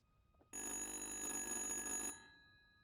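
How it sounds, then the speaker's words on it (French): An old telephone rings in the horror game Little Hope: after a quiet moment, one sustained bright electric ring sounds for about a second and a half, then cuts off and leaves a fading tail. "Décrochez ce téléphone!"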